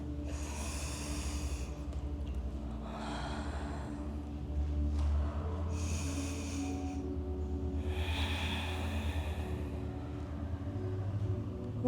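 Four slow, breathy exhalations in a yoga session during a dancers' stretching class, each lasting a second or two, spaced a few seconds apart and sounding close over a steady low background hum.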